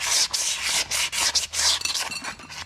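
Sandpaper rubbed hard against the glazed lining of a Yamaha Wolverine 350 rear brake, loud close rhythmic scrubbing strokes in quick back-and-forth bursts with short gaps between them.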